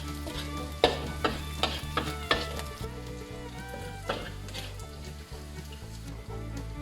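Coconut shoots frying and being stirred in a pan until golden, a steady sizzle with several sharp scraping strokes of the utensil early on, close and fairly loud, over a persistent low tonal hum.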